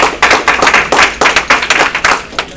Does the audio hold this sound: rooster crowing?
no